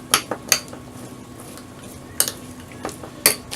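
Banana bread ingredients are mixed in a bowl, giving a few sharp clinks and scrapes of a utensil against the bowl in irregular bursts over a faint background hum.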